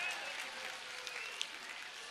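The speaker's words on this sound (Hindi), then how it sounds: "मैं चाहूंगा जोरदार ताली" Faint, distant applause from an audience at an awards ceremony, a soft continuous patter of clapping with a few sharper individual claps standing out.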